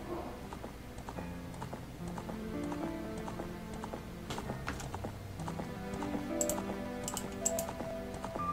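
Horse clip-clop from a Nintendo 64 game running on the Project64 emulator, rhythmic hoof beats over game music, moderately loud throughout with no talk.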